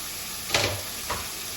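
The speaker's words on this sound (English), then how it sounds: "I'm going to add some butter to the bottom of my skillet. And then I'm going to go right in with my bacon." Bacon frying in butter in a skillet gives a steady soft sizzle with a couple of brief louder hissing surges, quiet and close.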